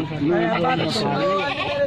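A Rajanpuri goat bleats at a busy cattle market, a close wavering call rising and falling over steady crowd chatter and people talking nearby.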